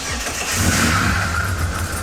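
A Ford AU Falcon with a 3.9 Intech engine, fitted with a cam and set up for drifting, revs up close by, its engine note rising into a loud, rough, sustained roar.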